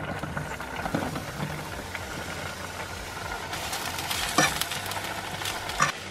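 Mushrooms, garlic, ginger and pasanda spice sizzle steadily in a pan, with scraping stirs and a few louder knocks of the utensil against the pan, no talking.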